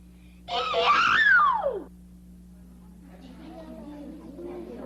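A child wails and screams loudly for about a second and a half after getting a whooping cough needle shot at a 1949 Western scene, the cry rising then falling away, followed by faint background murmur.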